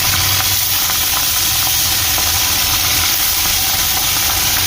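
Pomfret fish fry in hot mustard oil, giving a loud, continuous sizzle and hiss that holds steady without a break.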